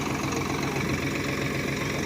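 Agriking tractor engine idling at a village demo near Ganganagar, a steady, close, continuous low rumble with no breaks.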